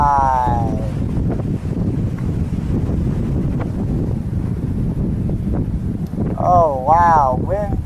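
Wind roars steadily and loudly across the microphone at an outdoor long-range rifle range, shooting at 825 yards, with a brief voice speaking at the start and end.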